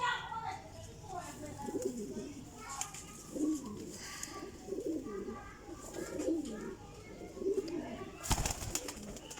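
Soft, low pigeon coos repeat through the clip, mixed with fluttering and scattered bird chirps, close by, with a sharp burst of noise near the end.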